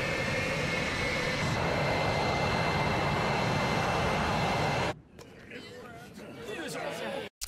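A fighter jet roars loudly and continuously in an anime episode, a broad engine rush that cuts off abruptly, leaving quieter scattered sounds.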